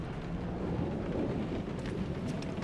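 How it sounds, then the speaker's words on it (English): Steady rain pours down with rumbling thunder on the alien planet Sekhmet 9 in the Guardians of the Galaxy video game, a dense, continuous wash of downpour with low rolls underneath and no talking. "The rain will be refreshing."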